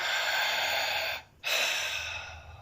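A single deep breath drawn in through the airways before a breath hold during a breathwork session, a long airy rush that stops abruptly into a short silence, then another long exhale of breath follows; close and alone, no talking.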